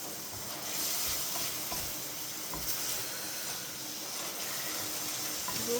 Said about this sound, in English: you leave that to cook for about 2 minutes and you keep stirring it